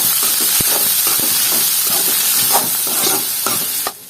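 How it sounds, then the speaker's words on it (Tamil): Chopped citron and onion sautéing in oil hiss in a dense, continuous sizzle, with scattered scraping stirs and clicks from a utensil close by, easing off just at the end, and no voices. "இதை நல்லா அந்த எண்ணெயிலே கொஞ்சம் வதக்கிக்கோங்க"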